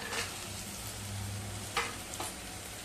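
Onion, ginger, garlic, peanuts and coconut fry in a pan with a steady, close sizzle, and a couple of soft stirring scrapes break through near the end. No one talks.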